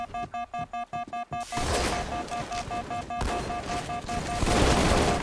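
Shotgun fire in Halo 2 Anniversary Infection mode: a run of short, evenly spaced electronic beeps gives way to dense, loud blasts and crackling noise that continue to the end.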